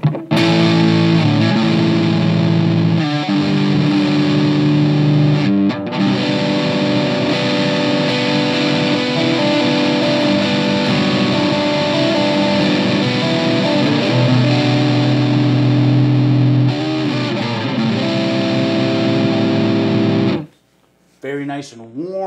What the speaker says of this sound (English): Let's see what that neck pickup sounds like.